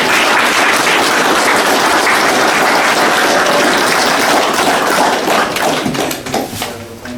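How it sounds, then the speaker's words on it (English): A room of participants at a driver development day gives a loud, dense round of applause, clapping steadily and close by for several seconds before thinning out at the end. "Can I give yourself a round of applause?"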